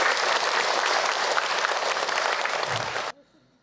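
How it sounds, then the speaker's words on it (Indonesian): Applause from an audience at an Islamic sermon, a dense steady clapping that runs loud and even for about three seconds, then cuts off sharply into near silence. "Tepuk tangan buat Tuhan."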